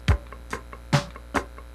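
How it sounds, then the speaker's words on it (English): Muted scratching strokes on a funk rhythm guitar's third string, fingers damping the strings: four short percussive chucks spaced evenly about half a second apart, close and dry with no other sound. "Start scratching."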